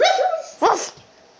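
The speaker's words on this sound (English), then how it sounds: "Bark. Woof! Woof!" A poodle gives a couple of sharp, close barks during play, the first a short yelp and the second louder, then quiet follows.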